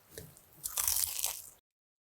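Someone bites into a crispy oven-baked wing made from frozen chicken, giving one close, sharp crunch followed by brief chewing, then silence.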